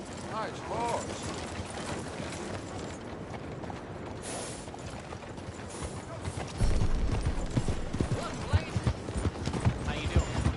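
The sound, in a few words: horse hooves clip-clopping in a PS4 video game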